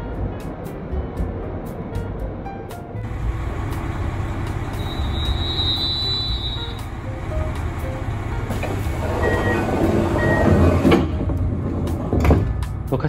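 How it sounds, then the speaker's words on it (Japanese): A Hokkaido limited express train departing Shintoku station at night rumbles and clatters steadily, its low drone building slightly toward the end, with a brief high whine and scattered clunks. "新徳駅を発車する列車はこれが最終列車となります。"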